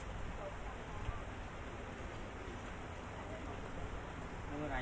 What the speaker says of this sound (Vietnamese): Mưa này dai lắm luôn